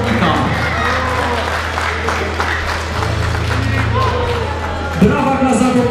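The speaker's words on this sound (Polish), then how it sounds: "Brawa dla zawodnika." Applause from a boxing gala audience after an amateur bout is decided, a steady wash of clapping and crowd noise under an announcer's voice, with a low hum throughout and a slightly louder burst near the end.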